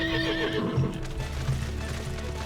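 A flying horse Pegasus mount in Final Fantasy XIV whinnies and clops its hooves, a loud neigh over rhythmic hoof beats with game music playing underneath.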